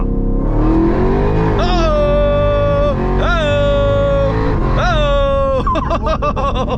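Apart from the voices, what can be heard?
900 HP Jeep Trackhawk accelerating hard in a 30 roll street pull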